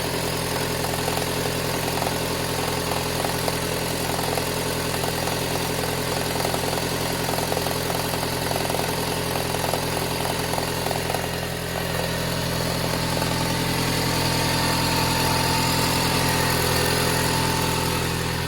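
Toyota Harrier with a 5S-FE engine idling cold, giving off a steady rattling knock over the constant engine hum, close and continuous with no talk.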